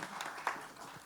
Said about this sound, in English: Let's have a big round of applause for the cast there